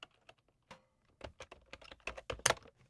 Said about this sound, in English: type in Cheryl's name